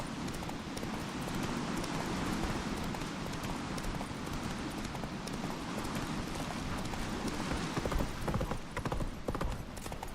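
A horse gallops in The Witcher 3 video game, hooves pounding in a fast, continuous clip-clop under a wash of ambient noise throughout.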